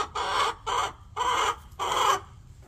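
Irritable hens cluck close by in four short, evenly spaced bursts over a couple of seconds, each a harsh, nasal call with no one talking.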